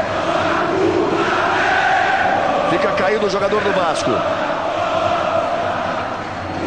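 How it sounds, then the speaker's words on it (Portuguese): Vasco supporters at the Maracanã stadium during a televised football match: a dense, loud roar of crowd chanting and cheering fills the whole span, with a commentator talking over it. "Olha a festa da torcida do Vasco no Maracanã."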